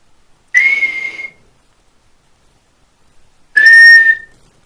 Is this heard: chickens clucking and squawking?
no